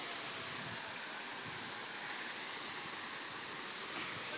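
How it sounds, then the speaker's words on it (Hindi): Rushing water flowing over stones on a flooded path during rain, a loud, unbroken broadband roar close by that holds constant with no speech. "और पानी का शोर शराबा तो आप सुन ही रहे होंगे"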